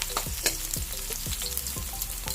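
Onion and garlic sautéing together in a hot pan, a steady loud sizzle with repeated spatula strokes and light clinks against the pan, close up and with no talking.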